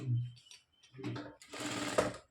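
A sewing machine stitches a blouse in short, uneven bursts, fairly quiet, with low hum at the start and a busier whirring run toward the end.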